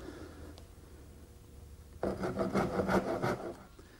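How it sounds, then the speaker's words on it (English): A small dovetail saw rasps through a wooden corner in a quick run of about eight close, rhythmic back-and-forth strokes after two seconds of near quiet. "I like to take my little dovetailing saw and come to each corner and just make a little saw cut"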